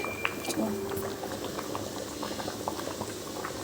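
Rice for gongura chicken biryani boiling in a pot, a loud continuous bubbling and churning of water close by, with a few brief clinks.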